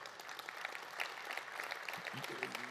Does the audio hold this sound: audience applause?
yes